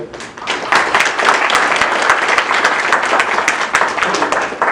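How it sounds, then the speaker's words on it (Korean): Sustained applause from a forum audience welcoming a guest during a panel discussion on maritime development, dense steady clapping for about five seconds without a break. "우리 문대림 JDC 이사장께서 와주셨는데 큰 박수 한번 보내주십시오"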